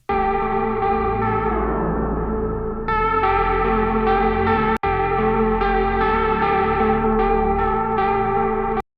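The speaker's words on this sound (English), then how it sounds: "now we just need to make this sound big and spacious with some reverb" Music track drenched in spacious reverb from an Aura plugin, a dense sustained wash of sound with shimmering chords and a brief dropout near the middle, no voices.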